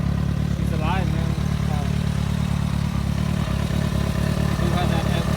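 A Kawasaki ZX6R motorcycle engine idles close by with a steady, loud, rumbling clatter throughout, and a voice is briefly audible over it.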